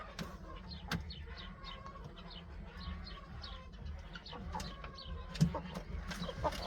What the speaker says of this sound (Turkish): Yeni yetişen civcivlerimiz, işte gördüğünüz gibi felik tavuklarımız